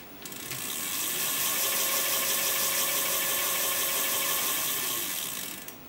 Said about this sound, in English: Make sure the rear wheel turns via the motor.